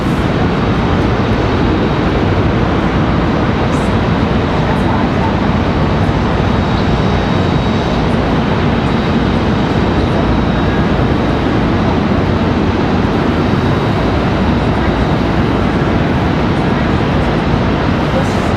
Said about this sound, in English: This A321 touching down here.